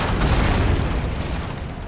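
Cannon fire from a battle on a fort in the video game Empire: Total War, a loud rolling boom of heavy guns with a rumbling low tail that slowly fades.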